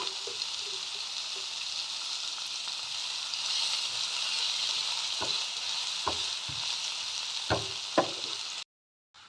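Chopped onions frying in oil with asafoetida in a pan: a constant bright sizzle throughout, punctuated by several sharp utensil taps and knocks toward the end, with no talking.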